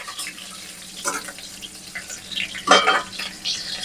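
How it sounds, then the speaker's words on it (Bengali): Bay leaves and chopped onion frying in hot mustard oil, with a soft steady sizzle broken by a few stirring scrapes and clatters. One louder burst comes near the end, and no one speaks. "তেলের মধ্যে কয়েকটা তেজপাতা দিয়ে দিলাম আর অল্প কয়টা পেঁয়াজ কুচি একটুখানি ভেজে নেব।"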